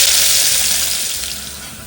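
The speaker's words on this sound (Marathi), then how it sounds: "कांदा कढीपत्ता आणि मसाला तेलात परतून घ्यायचं" Onion, curry leaves and masala frying in hot oil for a mutton sukka dish, giving a steady close sizzle that fades slightly toward the end, with no talking.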